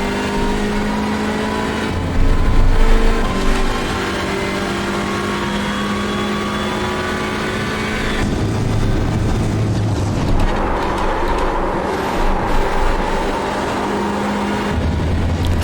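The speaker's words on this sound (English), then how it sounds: "Three stabs at the throttle before I felt comfortable that I was going to make the corner there" Hyundai Elantra touring car at Silverstone in iRacing, its engine droning loudly and steadily, with several sharp throttle stabs where the revs jump and fall, and gear changes shifting the pitch over the run.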